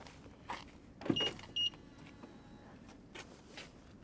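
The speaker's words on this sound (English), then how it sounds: "let's open up the car" A 2023 BMW iX soft-close car door unlatches with a soft click and mechanical whir, followed by a short beep in a quiet interior.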